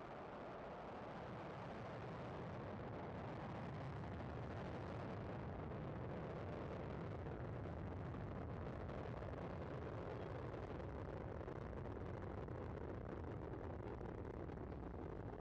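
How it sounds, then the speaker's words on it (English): Rocket engines roar at lift-off of a crewed launch to the International Space Station, a loud, continuous broadband rumble that swells and holds steady, crackling slightly. "we see the fires lit, the engines start to roar, and lift off"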